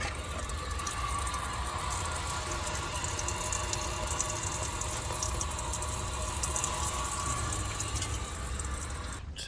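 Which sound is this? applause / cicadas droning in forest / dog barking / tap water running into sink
tap water running into sink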